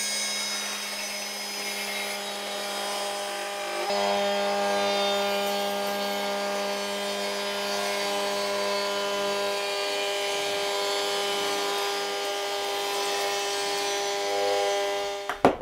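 A wood router fitted with a large quarter-round bit mills a board while building a saw rack, giving a steady, loud, even whine with a rough cutting edge that holds through the whole stretch with no talking.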